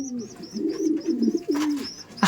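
Racing pigeons in a loft cooing, a run of low throaty coos close by with a few higher chirps above, no talk.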